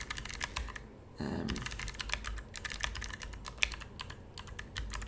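Rapid, close keystrokes on a computer keyboard while typing code, steady bursts of clicks with a brief pause, quiet and without talk.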